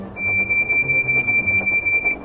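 Percy the steam engine blows his whistle, a single steady, shrill high tone held for about two seconds, loud and close over a background of rhythmic chuffing.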